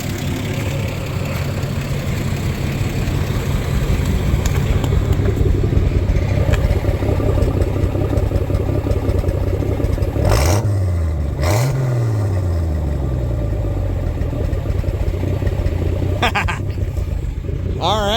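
A 1984 Ford F-250 truck with a Comp Cam 268H camshaft runs steadily at idle with a low, loud exhaust rumble, with two short revs midway before settling back to a steady idle.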